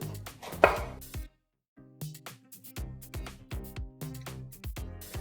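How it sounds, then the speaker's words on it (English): Pounding and grinding chimichurri ingredients in a mortar and pestle for a salmon burger, a series of close, sharp knocks with brief pauses between strikes. "Add that to our mortar and pestle. Give that a pound, a little grind."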